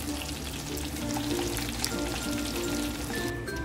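Chicken pieces frying in hot oil give a steady, dense sizzle and crackle that stays loud and even throughout, with no talking over it.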